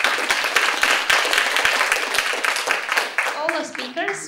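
Audience applause closes a session at a healthy aging and biomarkers conference, brisk clapping that thins out toward the end while voices start talking over it.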